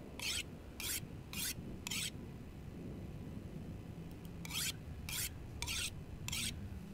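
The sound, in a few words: whetstone sharpening a blade in the video game The Long Dark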